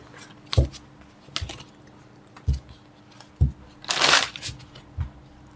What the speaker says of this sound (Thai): อาทีนี้หมอสับไพ่ให้คนโสดนะทีเนี้ย สับไพ่ให้คนโสด